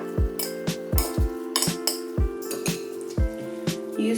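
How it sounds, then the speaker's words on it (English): Wooden chopsticks mix Korean-style spicy cold bibim pasta in a glass bowl. The clinks and taps come in an uneven rhythm, close and fairly loud, with tonal ringing from the bowl and no talking. "Of course, it's Korean style pasta, so I'm using chopsticks. I'm just gonna mix everything like this nicely."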